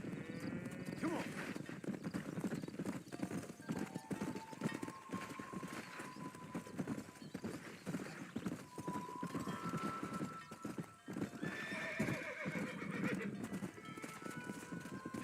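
Horses in the video game Red Dead Redemption, hooves clip-clopping in a busy rhythm with several whinnies and neighs rising above the herd, while people shout and call out over them.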